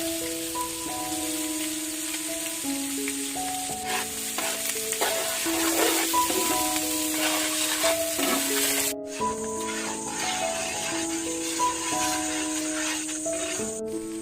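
Cinnamon, cloves, cardamom and chopped onion frying for a village-style country chicken fry, a steady close sizzle and hiss running throughout under background music.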